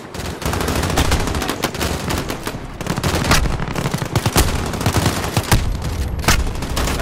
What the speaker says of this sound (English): Let me shoot him through the wall.